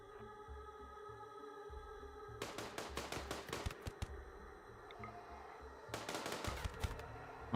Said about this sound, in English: We tried to put a few bullets in each of them.